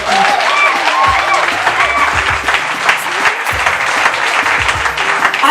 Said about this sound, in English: Give a lot a round of applause.